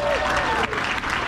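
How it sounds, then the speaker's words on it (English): Audience at a health care hall of fame awards ceremony applauding, a dense continuous round of clapping throughout a short moment, fairly loud and close. "I want you to give yourself a round of applause."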